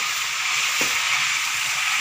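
Chicken sizzles and crackles steadily in hot oil, a continuous bright frying hiss heard up close.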